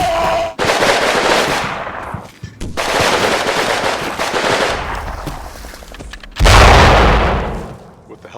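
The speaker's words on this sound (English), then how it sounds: "My hidden squads on the right-hand side of the bridge open fire." Small arms gunfire from the Combat Mission war game, as hidden infantry squads open fire on a bridge: dense, sustained bursts of rapid shots in three loud waves, with a heavy low boom landing near the end.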